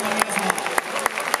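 Crowd clapping in a broad, continuous patter with scattered louder claps, a large stadium audience applauding at a baseball ceremonial first pitch in Yokohama Stadium; a faint announcer's voice sits beneath.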